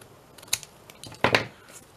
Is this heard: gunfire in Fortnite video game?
no